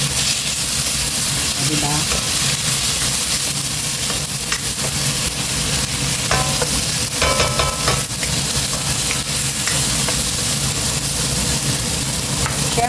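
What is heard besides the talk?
frying two galunggong fish in a pan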